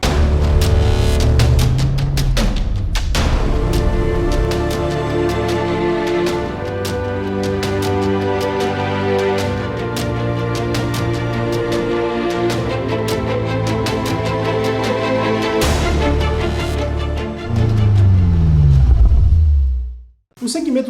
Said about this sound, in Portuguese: Roda a vinheta.